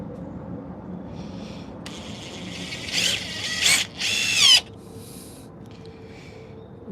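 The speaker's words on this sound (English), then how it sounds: "next thing is to get one of these screws in." A power drill drives a screw into a wooden coffee table leg, with a few short whirring bursts rising to a louder strained spin before stopping, close up in a quiet room.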